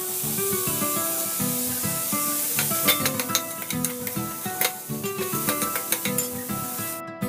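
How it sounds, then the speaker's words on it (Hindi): Curry leaves and finely chopped onion sizzle steadily in a hot pan, a continuous close frying hiss with occasional sharp crackles and stirring scrapes, no voices. "इसमें डाल देंगे थोड़े से करी पत्ते।"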